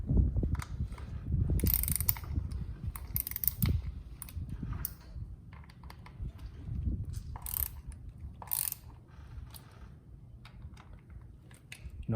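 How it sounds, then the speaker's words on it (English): A 1/4 inch ratchet turns Torx 27 bolts on a Harley Dyna Street Bob derby cover, making bursts of quick clicking close up alongside rattling and metallic handling noises, loudest early on and lighter toward the end. "This is going to be the Torx 27 with your 1/4 inch ratchet."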